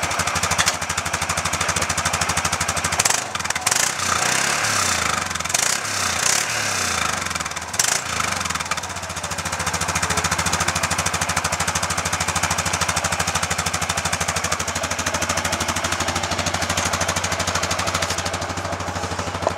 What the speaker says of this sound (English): That's the exhaust system.